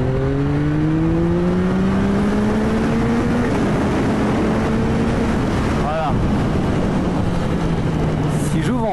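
A Yamaha MT-09 Y-AMT motorcycle with automatic clutch and transmission accelerates hard at full throttle, its engine note rising through successive gears amid loud wind noise, with a person talking over it.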